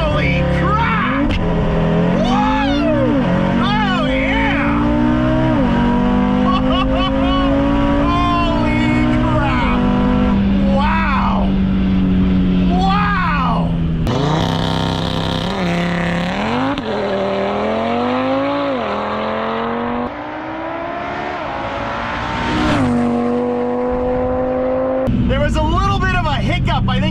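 An Audi R8 V10 Performance launches hard on a quarter-mile run, its engine pitch climbing loudly and dropping at each gear shift, with excited voices shouting over it.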